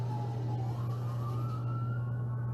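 On the Las Vegas Strip, an ambulance siren glides slowly upward in pitch and holds, moderately distant, above a heavy steady low hum of idling traffic, with nobody talking.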